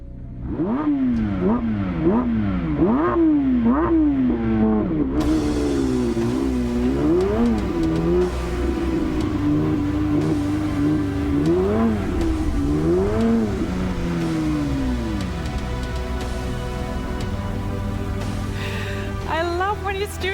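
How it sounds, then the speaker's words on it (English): A 2022 Porsche 911 GT3 engine revs loudly in repeated rising and falling bursts as the car drives in, with steady background noise underneath throughout. "Ladies and gentlemen, Mr. Andreas Andi Preuninger and the new Porsche 911 GT3"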